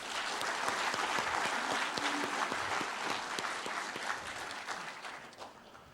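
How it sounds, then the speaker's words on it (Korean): A hall audience gives a full round of applause at the inauguration ceremony of POSTECH's 9th president. The clapping is dense and continuous, holding steady before it slowly fades. "큰 박수로 맞이해 주시기 바랍니다."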